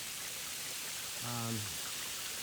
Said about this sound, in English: I've got a hose just putting a nice light rain on top of this roof